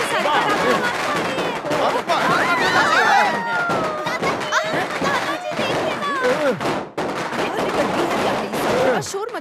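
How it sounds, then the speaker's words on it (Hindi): Firecrackers go off in a scene from a South Indian film as rapid, crackling bursts, mixed with excited shouting voices and crowd noise, loud and almost constant throughout. "अरे ये पटाखा का आवाज कैसा है?"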